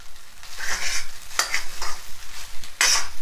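Leftover rice being stirred and mixed with pieces in a pan, a series of loud scraping, rustling strokes in an uneven rhythm, close and without talk.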